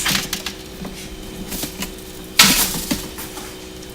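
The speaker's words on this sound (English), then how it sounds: "Sorry for the noise, guys. I was plugging my computer in." A computer charger is plugged in, making a few light plastic clicks and rattles and one sharper clack near the middle, close by in a quiet room.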